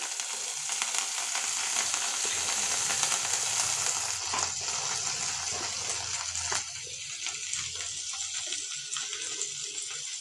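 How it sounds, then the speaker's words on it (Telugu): Freshly washed coriander leaves frying in a tablespoon of added oil for a coconut chutney, producing a loud, steady hiss that fades a little midway, with a few light stirring knocks and no speech. "లైట్గా ఇంకొంచెం 1 టేబుల్ స్పూన్ ఆయిల్ వేసి ఇప్పుడు దాంట్లోకి నేను శుభ్రంగా నీట్గా కడిగిన కొత్తిమీరని వేసుకుంటున్నాను"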